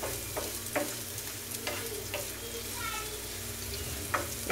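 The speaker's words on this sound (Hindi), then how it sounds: "इसको हम फ्राई कर लेंगे ऑयल में।" Finely chopped onion fries in oil on a hot pan for chicken liver masala, giving a close, constant sizzle with scattered spatter pops and a few utensil scrapes, and no voices.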